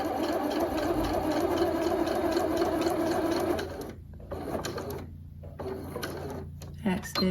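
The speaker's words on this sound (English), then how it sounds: "So I'm going to stitch, back stitch, and then continue." A sewing machine stitches a facing onto dress or jacket fabric, then backstitches, running loud and steady before stopping and restarting in short bursts, with a voice talking over it.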